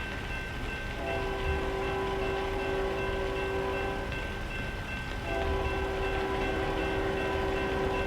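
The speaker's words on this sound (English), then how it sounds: "Is there a train coming, or?" A train rolls past at a rail crossing in American Truck Simulator, giving a continuous rumble and rattle of wagons with a steady tonal hum that runs throughout at an even, fairly close level.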